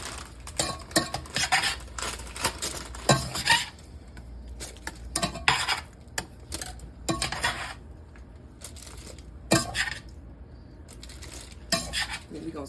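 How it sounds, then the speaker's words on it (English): Bolognese sauce stirred in a pot with a metal utensil, giving a close run of repeated scraping and clanking strokes against the sides, loud and uneven with brief pauses, and no talking. "The bolognese is ready, so I'm just gonna stir it up"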